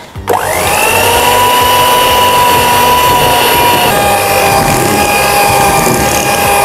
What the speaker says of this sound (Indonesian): Semua bahan udah masuk, kalian tinggal mixer aja hingga adonan cake-nya mengembang, kaku berjejak.